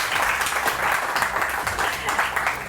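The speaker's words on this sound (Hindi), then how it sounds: "और मेरे हसीन मेहमानों के लिए भी तालियां होनी चाहिए" Sustained applause from a studio audience at a morning TV show for its guests, a dense, even wash of many hands clapping throughout without pause.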